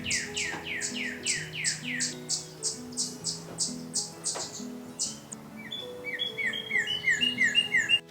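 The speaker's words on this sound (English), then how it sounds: "You can hear the number of birds that are just off of the platform." Many birds chirp and whistle in overlapping bursts, repeated high tweets and trills filling the air at moderate distance, with soft outdoor background hum.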